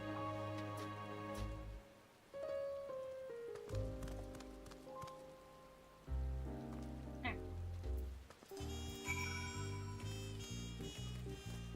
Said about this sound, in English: don't mind the rain.